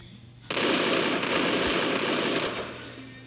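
Sustained automatic machine gun fire in the mobile battle royale game Free Fire Battlegrounds, a dense loud burst lasting about two seconds that then tapers off, heard alone without talk.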